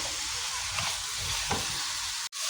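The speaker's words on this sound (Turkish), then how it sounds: "Güzelce kavurursanız hem çabuk pişer hem de daha lezzetli olur" Okra sizzles and crackles steadily in a hot pan, with a couple of soft stirring scrapes.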